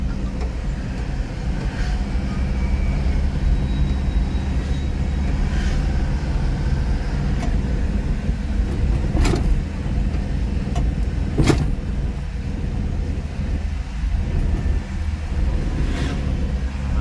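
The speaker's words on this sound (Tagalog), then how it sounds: "Sobrang traffic dyan sa baba." Heavy road traffic flows below an overpass in Baguio, a steady loud rumble of car and bus engines with occasional passing vehicles swelling close by, no talking.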